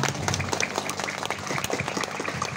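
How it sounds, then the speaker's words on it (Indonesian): Dense audience applause fills a Madurese religious gathering for a youth study group, a steady wash of many hands clapping close and loud without a break, with faint voices underneath. "Tepuk tangan."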